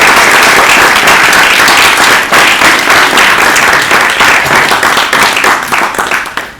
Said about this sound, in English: I think we owe them an applause.